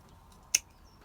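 A single crisp snip as a Drosera sundew flower stalk is cut, one short sharp click standing out against a quiet background.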